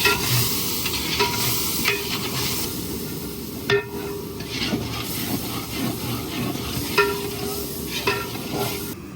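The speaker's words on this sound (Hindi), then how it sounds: "और इसको अच्छे तरीके से भून लेंगे।" Chana pulao masala with salt and chilli being sautéed in a large pot, close crackling sizzle with repeated scraping and knocking of a ladle against the metal, no voices.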